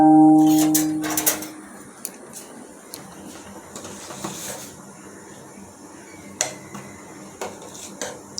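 Chopped kochur loti (taro stolons) tip into a frying pan of lightly fried onion and chilli, followed by a steady low sizzle and scattered clatters of the stolons and utensil against the pan.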